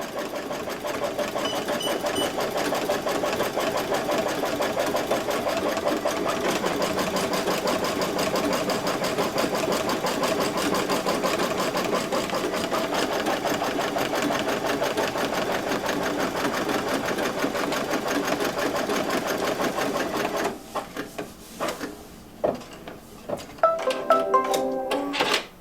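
A sewing machine runs a basting stitch on quilt fabric, its steady, fast, even whir held close and loud for about twenty seconds, then slowing into separate mechanical clicks and thumps as it stops.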